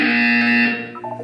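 A loud, harsh electronic buzzer from the video game Portal 2 drones steadily for about a second before cutting off.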